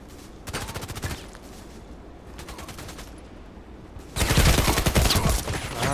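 Automatic gunfire in the Contract Wars shooter game, rapid bursts of shots in three volleys, the last one loudest and longest, close and sharp.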